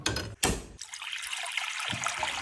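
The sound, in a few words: boiling water for making dhido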